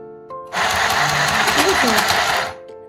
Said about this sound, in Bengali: আমি যেই এই সুইচটা প্রেস করব মেশিন চলতে শুরু করে দেবে